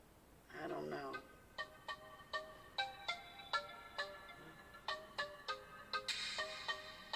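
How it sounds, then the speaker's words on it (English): A cell phone ringtone plays a repeating pattern of bright, evenly spaced electronic notes after a brief burst of speech at the start, moderately loud and close. "Remember my cell phone ring? It used to be, wait, hang on, I gotta let it ring."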